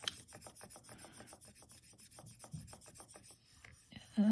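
A toner transfer pressed face down on translucent polymer clay is burnished in rapid back-and-forth rubbing strokes, close and fairly soft, in a steady scratchy rhythm that slows near the end before a louder knock.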